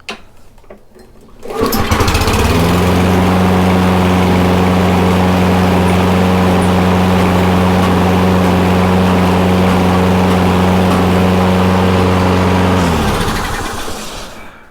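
A Toro Recycler lawn mower with a newly replaced drive belt and a readjusted drive cable starts and runs at a steady, loud, close drone for about ten seconds, then winds down, with no talking.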